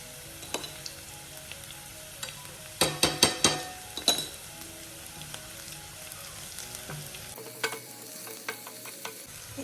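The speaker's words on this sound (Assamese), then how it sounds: "এতিয়া দিম মই ইয়াত নহৰু।" Onions and garlic fry with a close, steady sizzle in a pan, broken by a quick burst of stirring strokes and scrapes with small utensil clinks, followed by scattered lighter stirs.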